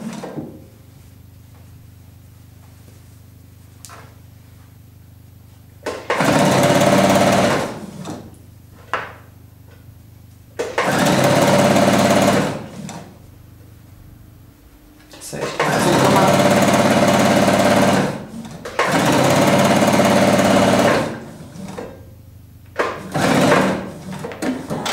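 A sewing machine stitches a seam on a child's pointed hat in four loud, close bursts of rapid whirring, with pauses between where a voice speaks quietly.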